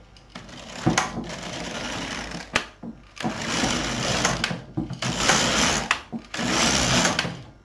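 An LK 150 knitting machine knitting rows, its carriage sweeping back and forth in loud, close, rasping whirring passes of a second or so each, broken by brief knocks and clacks between strokes.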